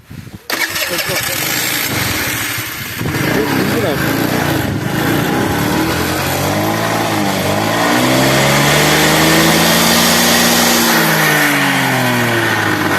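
A Küba Space 50cc scooter cranks and its small engine catches, then idles steadily and loud close by, rising in revs toward the end, with someone talking over it.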